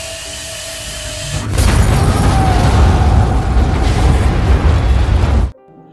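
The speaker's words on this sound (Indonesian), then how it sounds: "ternyata itu mengenai tabung gas hingga meledak" A gas cylinder explosion in a film scene: a sudden loud blast erupts and roars for several seconds with a rumbling, crackling body, then cuts off abruptly.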